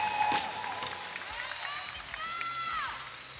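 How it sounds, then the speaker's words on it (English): A crowd applauds and cheers at the STIHL Timbersports 2022 U.S. Women's Championship, a steady wash of clapping with voices carrying over it throughout. "All right, big round of applause."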